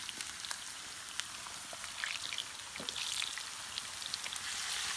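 Potatoes sizzle steadily in hot oil on a sac pan over a wood fire outdoors, a close, continuous hiss of frying dotted with small pops and crackles, with no voices.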